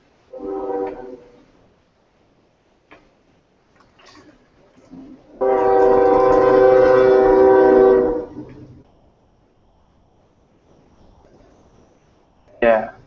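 A train passes at a distance, its horn sounding in a long, steady blast of several seconds in the middle, with brief voices before and after it in an otherwise quiet room.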